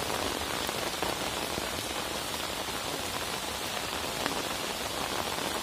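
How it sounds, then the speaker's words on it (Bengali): Heavy monsoon rain pours over a village canal, a dense and steady close hiss of drops drumming on surfaces throughout, with no voices. "এইসব তুমুল আকারে বৃষ্টি হয়েছে, এখনো হচ্ছে"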